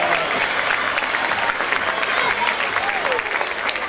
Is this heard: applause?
yes